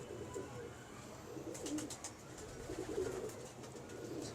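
Sheikhupuri pigeon cooing, soft repeated low coos over a steady background murmur, with faint chirps now and then.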